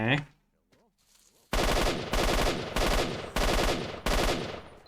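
Machine gun fire from S.T.A.L.K.E.R. Shadow of Chernobyl: after a short quiet lead-in, five loud, evenly spaced bursts of automatic fire hammer out close by, with no talking.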